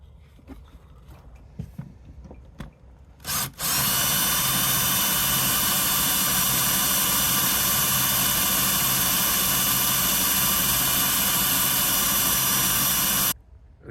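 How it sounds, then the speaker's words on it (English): A power drill bores out a stuck pin with a sustained high-pitched whine that starts abruptly after a short spin-up, holds steady for about ten seconds, then cuts off; quieter handling noises come before it. "So I guess we have to drill it out."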